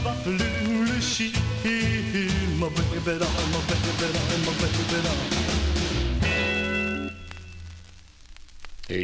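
A 1950s rock and roll record plays loud and full, with a male lead vocal over a driving rhythm section, before a brief drop near the end.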